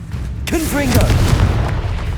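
A Confringo blasting spell from Hogwarts Legacy goes off in a single booming explosion, with a short rising whoosh just before the blast and a rumbling tail after it; a voice is heard briefly in the mix.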